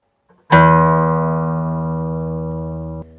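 A single guitar string is plucked once and rings out with a bright attack, sustaining and slowly fading before being abruptly damped.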